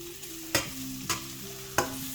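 Breakfast potatoes crisping in a hot pan: a steady sizzle, broken by three sharp scraping stirs of a utensil against the pan bottom at roughly even intervals, close and clear with no talk.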